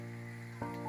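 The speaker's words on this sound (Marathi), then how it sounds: "तर आता आपण याला दोन्ही बाजूनी फुल फ्राय करून घेतोय." A Goan ros omelette fries in a pan, a soft steady sizzle with a slight swell near the end of this brief, quiet moment.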